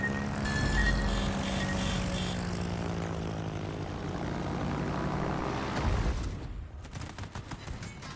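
Propeller aircraft engines drone steadily in World of Warships, a dense sustained roar of planes with rapid gunfire bursts crackling toward the end, and no voices.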